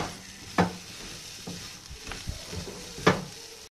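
Chopped coriander being stirred into a frying pea masala for matar kachori, a soft sizzle beneath a few scraping stirs with two sharper clinks of a spoon against the pan.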